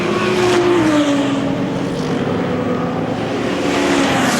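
GT race cars at Spa-Francorchamps, including a Ferrari, roar loudly and steadily close by as they climb through Raidillon, engine note holding high with a slight pitch shift, no talking.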